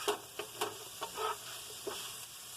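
Herbs sautéing in a hot pan for pork ribs in salsa verde green chili: soft intermittent sizzles and stirring scrapes come in several short bursts over a steady low hiss, close and fairly quiet, with no talking.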